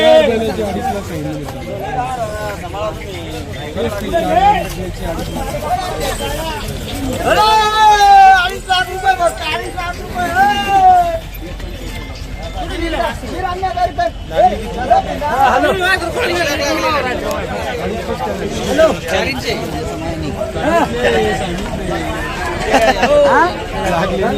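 At a village bullock market in Chalisgaon, a crowd chatters in a steady babble. Several nearby voices talk loudly over the general hubbub.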